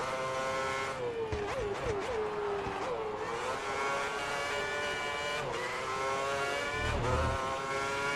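Formula One race car engine from the F1 2010 racing game, screaming at high revs with pitch dropping through downshifts and climbing again on acceleration, steady and loud throughout with no talk.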